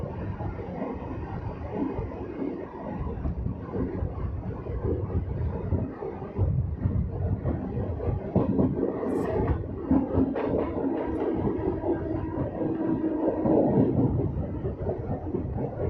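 A local MEMU passenger train running between Etawah and Tundla rumbles steadily from inside, with continuous wheel and rail noise, occasional clacks and a brief high squeal, loud and unbroken throughout.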